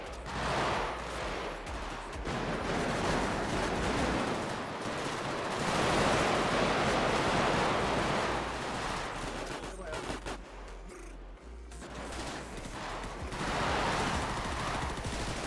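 Rapid automatic gunfire in a multiplayer shooter match, dense bursts rattling almost continuously over the whole stretch, loud and close, with brief gaps before the shooting resumes.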